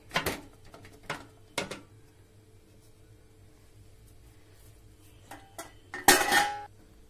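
A sponge cake tin set onto a metal stand inside a pot produces several separate metallic clanks and scrapes spread over several seconds, with the loudest, ringing clatter near the end, close and otherwise quiet.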